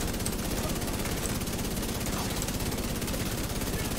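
Rapid, steady automatic gunfire from Division 2 rattles nonstop for several seconds, a dense mechanical stutter that fills the whole stretch with little variation.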